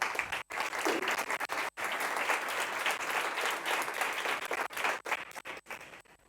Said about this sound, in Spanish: Así que Javier, José, Isaías, un aplauso para ellos.